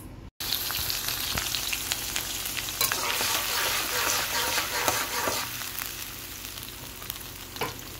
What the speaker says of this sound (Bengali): আমার আদা রসুন ভাজা হয়ে আসছে